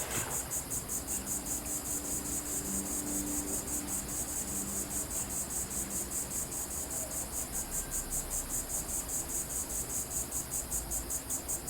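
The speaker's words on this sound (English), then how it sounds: "Nothing better in the summer than the sound of cicadas." Cicadas in the video game Fallout 76 buzz in a steady, dense, high pulsing drone that stays constant throughout on a summer soundscape, with no talk.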